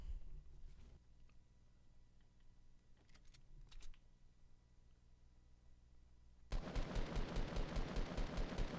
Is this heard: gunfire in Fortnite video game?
yes